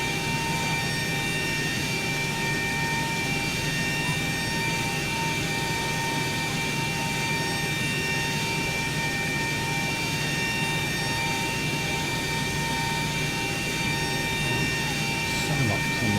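Aircraft APU starting up in the X-Plane 12 flight simulator, a continuous steady whine with a constant tonal hum and even level for the whole stretch, no talk over it.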